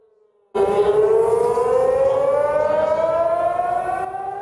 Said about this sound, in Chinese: 警报响起